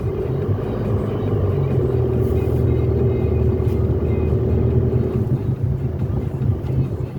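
Road traffic heard from inside a moving car: a steady low engine and road rumble with muffled passing noise fills the whole stretch. No one speaks.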